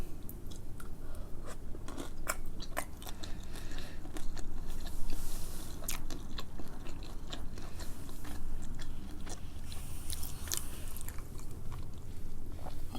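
Close, continuous eating sounds of Samyang carbo spicy chicken noodles and dumplings: steady wet chewing with frequent sharp bites and crunches, no talking.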